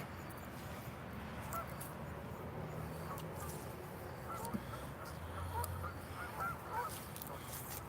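A flock of geese honks repeatedly in the distance, faint and overlapping, over a steady outdoor wind rumble.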